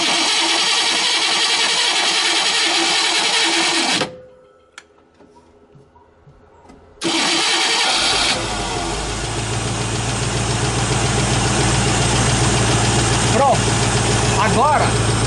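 A warm Ford Maverick V8 engine roars loudly, cuts out for a few seconds, then cranks and catches, settling into a steady rumbling idle while someone talks over it.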